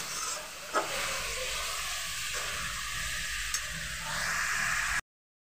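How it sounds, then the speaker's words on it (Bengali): Ginger garlic paste stirred in a hot pan for a chicken kochu alu curry, a steady close hiss and sizzle with occasional scraping taps of the spoon, no voices. "আদা রসুনের পেস্টটা দিয়ে নাড়াচাড়া করে নেবো একটু সুন্দরভাবে"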